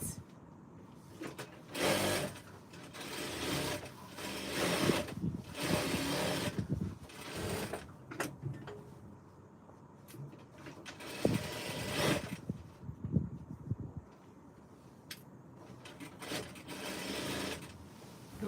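A sewing machine works on party dress fabric in repeated short runs, with whirring bursts broken by pauses and mechanical clicks, moderately close with no voices.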